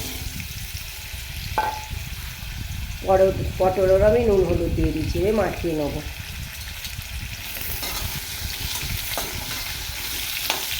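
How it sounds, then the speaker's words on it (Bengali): Salted, turmeric-coated potatoes fry in hot oil in a wok, a steady broad hiss running throughout the clip, while someone talks briefly over it partway through. "আলুগুলো আগে আমি ভেজে নেবো, তারপরে পটলগুলো ভাজবো।"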